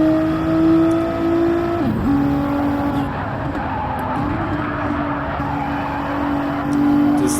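A Nissan GTR and a Porsche 911 RSR race cars roar in a racing video game, one engine note rising and dropping sharply with a gear change, tyres squealing faintly, continuous and close throughout.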